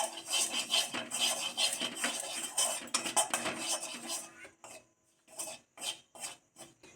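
Dry gram flour (besan) gets stirred in an empty wok over low flame, giving a rough, continuous scraping and rasping of the spatula against metal that breaks into short separate strokes near the end.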